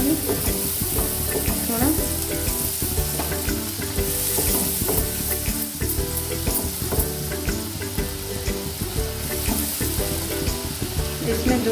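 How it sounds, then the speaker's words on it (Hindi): Butter melting in a hot pan while making loaded cheesy fries, with a steady broadband sizzle and frying crackle running throughout. Background music plays underneath, and a voice briefly speaks a word. "पहले मक्खन डालेंगे"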